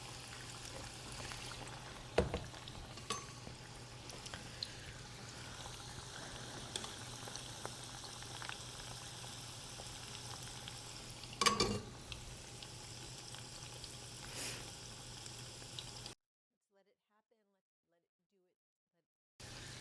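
Spinach corn fritters frying in a pan of oil, a steady close sizzle and crackle with a few sharper pops and spatters, cutting to near silence at the end.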